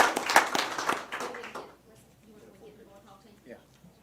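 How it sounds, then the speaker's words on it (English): Audience at a county school board meeting claps briefly for students, a short burst of close applause that fades within about two seconds, followed by quiet room sounds and faint talk. "Let's give them a round of applause."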